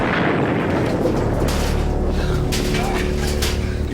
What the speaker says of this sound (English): they were the biggest explosions we'd ever done, because it was the end of the series,